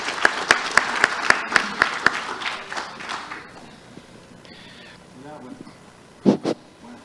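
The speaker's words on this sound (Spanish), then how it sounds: "¿Qué tal un aplauso para recibir a nuestro panel de lujo para el cierre?" An audience at a conference session on AI and emerging technologies welcomes a closing panel with applause: a few sharp, evenly spaced claps up front, then scattered clapping that thins out beneath voices and background talk.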